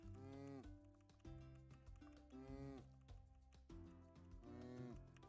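Cow mooing in the farming video game Sun Haven, several drawn-out, close moos in a row, low and tonal, each swelling then falling, with a faint clicking underneath.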